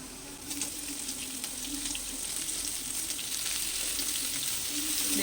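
Chopped onions hit a pan of frying potatoes for a fish-head cabbage dish, setting off a steady, dense sizzle with light stirring clicks, close up and continuous.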